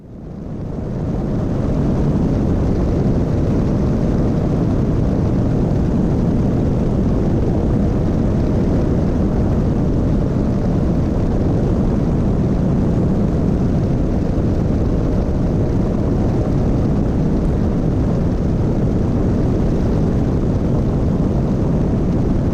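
Small airplane arriving at St. Ignatius airport, heard as a loud, continuous engine and propeller drone from inside the cabin that holds steady for the whole stretch with no talking.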